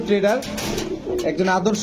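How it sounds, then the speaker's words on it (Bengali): Fancy pigeons at a pigeon shop coo in soft, rolling, repeated calls close by, with a couple of overlapping birds and some background voices. "আজকে এগুলো কি কবুতর রবিন ভাই?"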